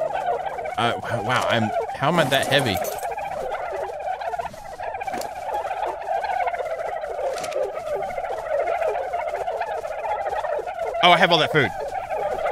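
Hens gobble and squawk in rapid bursts in ARK: Survival Evolved, with loud clustered calls near the start and again near the end, while a player talks steadily over a low droning game background.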